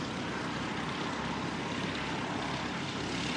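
Several small training aircraft at Christchurch Airport start up together, a steady broadband engine and propeller drone holding at an even level throughout with no talking.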